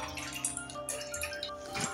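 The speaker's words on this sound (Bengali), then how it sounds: "এবারে এর মধ্যে দিয়ে দিচ্ছি 4 কাপ" Four cups of water poured from a cup into a pot on a gas stove, a steady close splashing trickle lasting the whole moment with a slight surge near the end.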